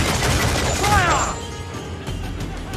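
Ship cannons firing in a naval battle in Assassin's Creed IV Black Flag, a loud rolling volley of booming blasts and crashes, with shouted orders from the crew and a fading rumble afterward.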